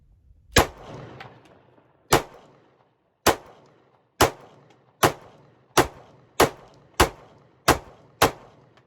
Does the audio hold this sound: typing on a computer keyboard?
no